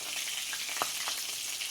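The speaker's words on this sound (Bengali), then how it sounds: "এই যে সরষের তেল দেওয়া হয়ে গেছে কড়াইয়ে" Oil sizzles steadily in a wok, mustard oil frying food at a faint, continuous hiss with occasional soft pops and a light stirring clink, heard alone without talk.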